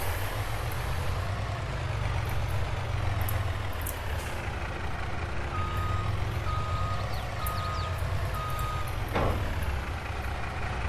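Truck reversing beeps in Farming Simulator 22 sound as a repeated tone, with a continuous engine rumble and heavy low drone running steadily underneath for the whole stretch.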